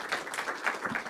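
Conference audience applauding after a speaker at a network engineering session, a steady wash of clapping that stays fairly even throughout with no voices over it.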